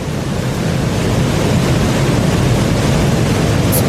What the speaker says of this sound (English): Rydal Grot Waterfall.